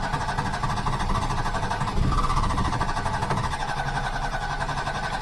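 A micro van's engine struggles to catch, turning over and running roughly at a low, uneven idle with a slight surge when given a little gas, close and continuous throughout.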